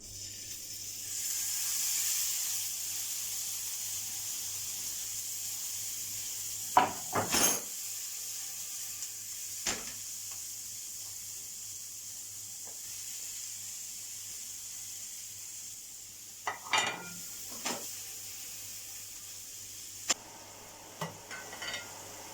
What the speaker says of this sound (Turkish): köftelerimizi kızartmaya geçtik